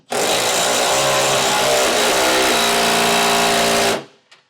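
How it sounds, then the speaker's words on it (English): A power tool fitted with a 19mm socket tightens trailer hitch bolts on 5th wheel base rails in a 2015 Ford pickup, giving one loud, steady, buzzing whir that runs nearly four seconds and then stops abruptly. "I'm gonna go ahead and tighten them up with a 19mm socket"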